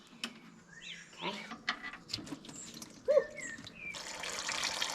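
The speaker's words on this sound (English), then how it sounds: "let's drain the oil" Engine oil draining from a classic Rover P4, heard as watery trickling and drips amid clinks and handling noises, swelling into a steady close pour in the last second.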